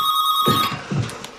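A telephone rings with a steady electronic tone that cuts off abruptly, followed by a few soft handling noises as the receiver is picked up.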